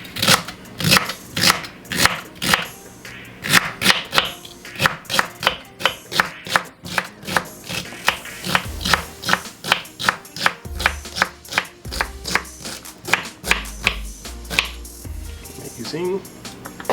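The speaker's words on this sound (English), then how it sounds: "And then just start cutting." A knife chops through stacked cabbage greens on a cutting board in quick, steady strokes, each a sharp close thud, dozens in a row, with deeper board knocks toward the end and no voices.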